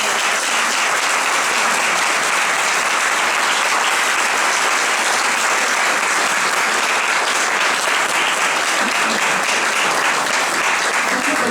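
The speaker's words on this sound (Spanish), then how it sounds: "Bueno, le damos un aplauso a Merced." Dense, sustained applause fills the hall from a lecture audience after Dr. Mercè Izquierdo-Aymerich's talk on the concept of the mole, steady and loud throughout with no pause.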